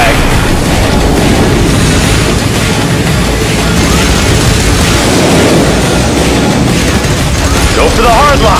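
A missile fired in the Top Gun: Hard Lock flight combat video game, a dense, loud, sustained roar of blasts and booming explosions filling the whole stretch without letup.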